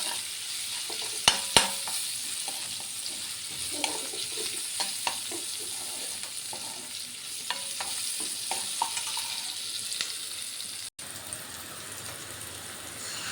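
Maggi noodles with capsicum powder cooking in a pan, a steady low sizzle with scattered light scraping and stirring clicks, a couple of sharper knocks near the start.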